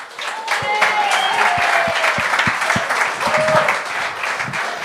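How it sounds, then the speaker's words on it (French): Studio audience applause at a French-language TV talent show, a dense, steady roar of clapping from a large crowd sustained throughout, with a host's voice briefly heard over it. "on applaudit ceux-là qui forcent"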